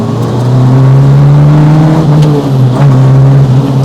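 A Peugeot rally car engine drones loudly from close by while driving, a deep steady hum with a gentle swell in revs and no voices over it.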